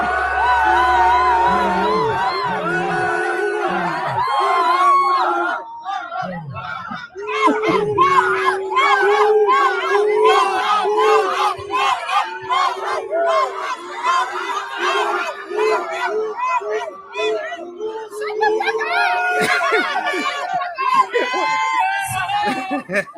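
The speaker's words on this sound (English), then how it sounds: "I didn't understand why they were booing her" A large crowd boos a woman at the podium, a loud, sustained roar of jeers and shouts that surges and dips over about twenty seconds without letting up.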